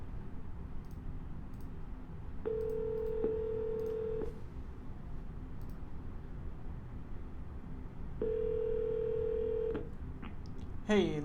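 An outgoing phone call on a handset: dial-tone beeps, then two long ringback tones separated by a pause, with faint clicks over a low background hiss and no talking.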